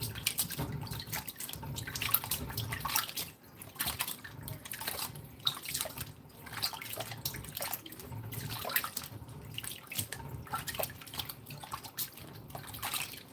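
Food is rinsed on a cutting board under a running tap, with a steady, faint splashing and dripping of water that goes on throughout without talk.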